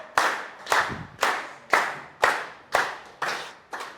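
Audience members at a business training session clap in a slow, steady unison rhythm, about eight sharp, crisp beats evenly spaced, with no talking.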